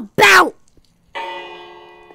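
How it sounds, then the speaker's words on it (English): A notification-style bell chime rings out after a short burst of voice, sustaining with a bright, decaying metallic tone for about a second in a Minecraft gaming setting. "Hit the bell."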